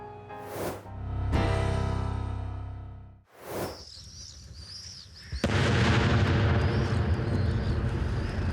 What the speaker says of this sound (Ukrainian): Херсон, світанок, вибухи артилерії.